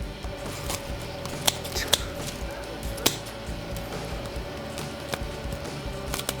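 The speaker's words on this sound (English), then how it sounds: "We just trim a bit. Trim off the strings." Scissors snip the loose strings off a handmade broom in a broom workshop. A few sharp, separate cuts stand out over a busy background of workshop noise.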